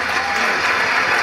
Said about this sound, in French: On applaudit très fort, très fort.